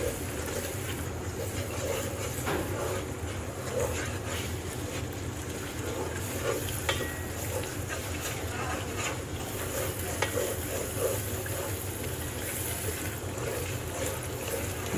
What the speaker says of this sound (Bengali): সজনের আব্বা একটু নাড়তে পারবেন? 1 মিনিট নাড়েন না।